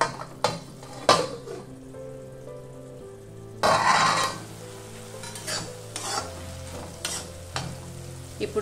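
Onion and cashews simmering in a pan with half a glass of water for an Afghani egg curry, a soft bubbling sizzle with occasional spoon clinks and stirring scrapes against the pan, close, with no talk.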